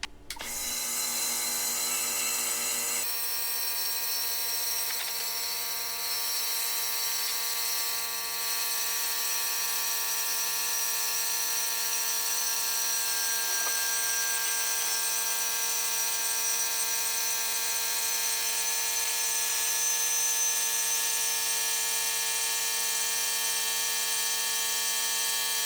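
A VEVOR 10-gallon, 90 PSI air compressor starts up and runs continuously as it fills its tank, a steady loud motor whine with a strong tonal hum that holds unchanged throughout.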